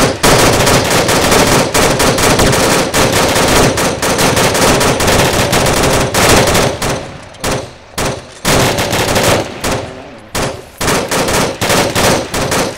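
Sustained suppressive machine-gun fire during a military engagement on an island near a lighthouse, a dense, continuous roar of rapid shots that breaks into shorter bursts with brief pauses later on.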